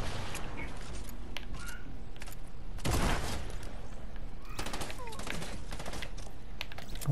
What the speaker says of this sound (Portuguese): Opa, tiro da onde?